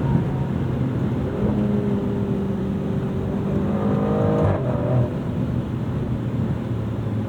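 2025 Maserati Grecale Trofeo engine in Corsa mode, a low steady drone that climbs in a rising rev before settling back down, heard alone without talk.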